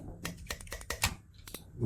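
Metal paddle shifters on a Fanatec CSL DD racing wheel clicking, a run of soft, quiet, irregular clicks close to the listener.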